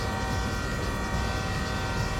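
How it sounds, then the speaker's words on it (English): A locomotive horn in the train game Derail Valley sounds as a sustained, steady tone, held evenly for about two seconds without breaks. "You heard the siren song of the train horn."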